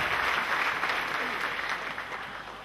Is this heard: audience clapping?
yes